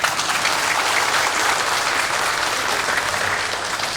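Steady, full applause from a large audience at a police ceremony honoring outstanding officers, dense and sustained for the whole stretch with no talk over it.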